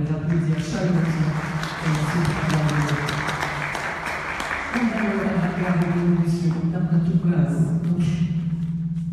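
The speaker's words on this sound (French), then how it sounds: "je vous demande encore une fois de les applaudir chaleureusement" An audience at a literary conference with authors claps in a steady, continuous patter for several seconds, while a voice speaks over the applause.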